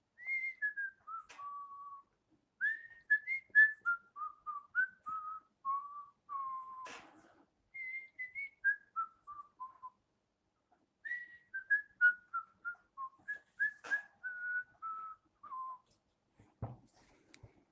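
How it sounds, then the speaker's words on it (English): Someone whistles a wavering melody in short phrases separated by brief pauses, with a few faint clicks in between. "Is she whistling?"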